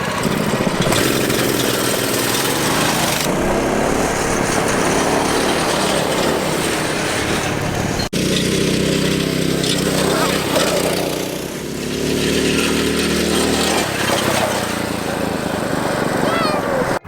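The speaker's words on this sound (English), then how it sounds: "So now what we're gonna do is a preliminary drag race, and hopefully they're pretty neck and neck." Two identical small-engine mini bikes, one with its governor removed, drag racing side by side, a loud continuous buzzing engine drone that revs and holds close by, briefly dipping midway, with voices mixed in under it.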